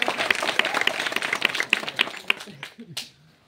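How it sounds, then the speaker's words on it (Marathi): At a live village school quiz, a group bursts into brisk clapping for a correct answer. The applause thins out and a voice speaks as it fades. "जोरदार टाळ्या"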